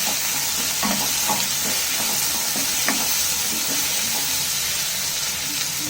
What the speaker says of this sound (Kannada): ಟೊಮ್ಯಾಟೊ ಫುಲ್ಲು ಮೆತ್ತಗಾಗೋವರೆಗೂ ನೀವು ಬಾಣಲೆಯಲ್ಲಿ ಕಾಯಿಸ್ಕೋಬೇಕಾಗತ್ತೆ